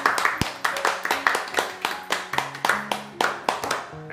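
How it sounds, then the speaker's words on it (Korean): A small family at the dinner table claps for the eldest brother, roughly a dozen crisp, evenly spaced hand claps close by, with faint tonal voices underneath. "수고한 큰 오빠를 위해서 박수"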